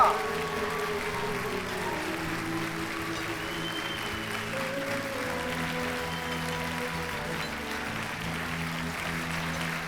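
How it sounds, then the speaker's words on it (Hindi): Sustained audience applause fills the stage for Mariam Sahiba, a steady dense clatter of many hands over a music bed, continuous and fairly loud throughout. "मरियम साहिबा के लिए जोरदार तालियां।"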